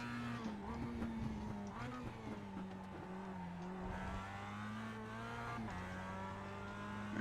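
A Mazda Cup race car engine in the iRacing sim at Laguna Seca holds a steady high-revving drone with shifting pitch, brief dips and climbs as it works through corners, loud and close throughout.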